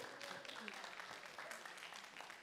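Moderate applause from a seated audience at a talk, a steady patter of many hands continuing for a couple of seconds.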